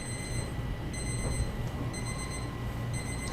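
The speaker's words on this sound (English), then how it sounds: "Thank goodness you set the timer there" Kitchen timer alarm ringing steadily in a home kitchen, a continuous repeating electronic beeping over a constant background hum, with no talking.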